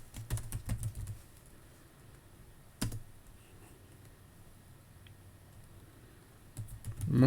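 Brief bursts of computer keyboard typing, a quick cluster of clicks at the start, a single sharp tap midway, more keystrokes near the end, quiet room tone between.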